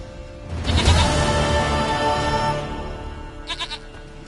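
A goat bleating in The Witcher 3, one long wavering bleat up close followed by a short, stuttering second bleat.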